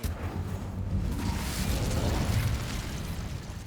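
An Incendio fire spell in Hogwarts Legacy goes off as a steady, roaring burst of flame and crackle that runs loud and sustained for several seconds with no speech.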